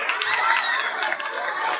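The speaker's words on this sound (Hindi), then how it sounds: "एक बार ताली हो जाए" An audience at a school Republic Day celebration applauds, a dense, steady wash of clapping that stays loud and even throughout, with crowd murmur underneath.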